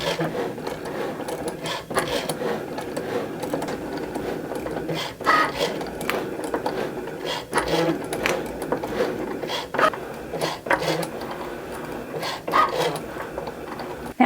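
A Cricut cutting machine slicing iron-on vinyl with a fine point blade, a steady whirring motor with rhythmic scraping and clicking as the carriage moves back and forth, continuous and close.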